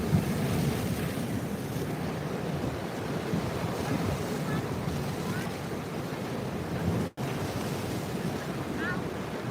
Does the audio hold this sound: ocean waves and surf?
yes